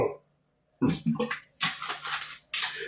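Someone drinks water close to the microphone: after a short silence come a few wet, sloshing gulps in uneven bursts.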